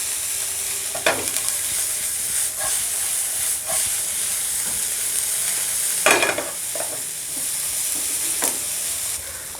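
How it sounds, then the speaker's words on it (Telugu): Spiced veg frankie filling stirred with chaat masala in a hot pan, a constant sizzling hiss with a few scraping stir strokes, no voices. "ఇలా చాట్ మసాలా వేసిన తర్వాత బాగా కలుపుకొని స్టవ్ ఆఫ్ చేసుకోవాలి"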